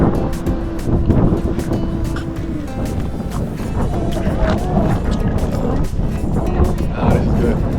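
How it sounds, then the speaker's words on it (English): Gusty wind roars across the microphone in a steady rush in Lisbon, Portugal, with faint traffic or engine noise underneath. "Now it's windy."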